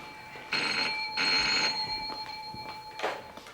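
A telephone rings at home in two long, loud electronic bursts with a brief gap between, followed by a shorter fading tone; no talking.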